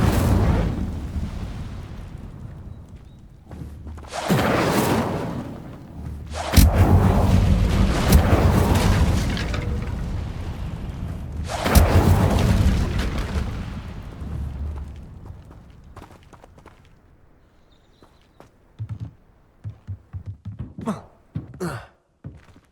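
Incendio fire spells cast in Hogwarts Legacy, several loud roaring whooshing bursts spread across the stretch, each swelling and fading, followed near the end by a quick run of sharp, snappy magical pops.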